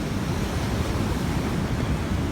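Rough typhoon sea breaking against the shore, a continuous dense wash of surf with gusty wind noise over the microphone, loud and close for a couple of seconds without speech.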